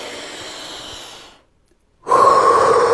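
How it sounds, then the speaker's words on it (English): One long deep breath held during a relaxation exercise: a steady airy exhale, a brief silent pause, then a strong, close inhale that starts abruptly and continues loudly. "You can take 6 nice deep breaths"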